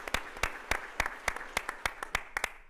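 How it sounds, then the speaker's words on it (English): Sharp, distinct handclaps from a small audience at a school fundraising evening, about five claps per second in an uneven rhythm, close and crisp with little crowd noise behind them. "let's give our lead donors a big round of applause"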